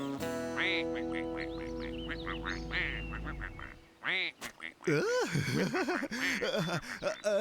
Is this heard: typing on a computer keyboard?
no